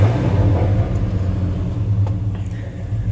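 Hemi-swapped car engine idling steadily after start-up, a loud, continuous low rumble close by with no talk over it.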